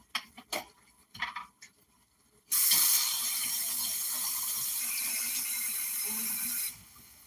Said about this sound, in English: add a little bit of water, bring the fire on high for a little bit.